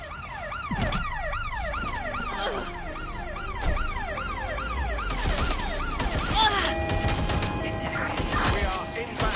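A wailing ambulance siren in the Watch Dogs video game sweeps up and down steadily and loudly, layered over gunfire, engine noise and radio chatter in a chaotic street scene.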